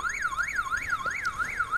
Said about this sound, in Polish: Podłączam syrenę.